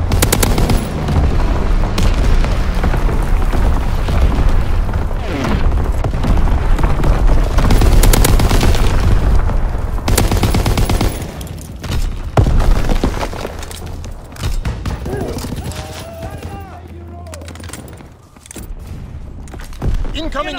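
An enemy artillery barrage in a video game pounds away as a loud, dense wall of explosions and rattling gunfire. It stays heavy for about ten seconds, then thins into scattered blasts, with voices now and then.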